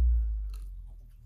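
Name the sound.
biting and chewing spicy chicken wings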